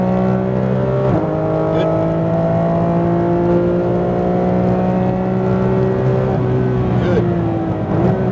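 A Porsche GT3 RS on a racetrack holds a loud, sustained high-revving engine note that climbs and shifts pitch, with brief gear changes and an instructor's voice speaking briefly over it.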